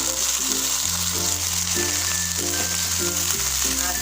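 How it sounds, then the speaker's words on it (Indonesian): Water spinach stir-fried in a pan for cah kangkung, a steady loud sizzle of frying throughout, with a tonal musical backing playing underneath. "aduk hingga merata"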